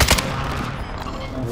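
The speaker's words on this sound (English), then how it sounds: "why is he shooting at me?" Bursts of gunfire in Call of Duty: Modern Warfare II, a sharp loud shot followed by rapid overlapping fire echoing through the scene.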